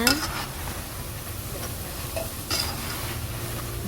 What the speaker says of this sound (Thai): เราต้องทอดแบบใจเย็นๆ คนไปเรื่อยๆนะจ๊ะ